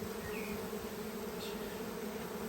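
Continuous buzzing of many bees around a hive, a steady low hum close by with no talking, constant in loudness.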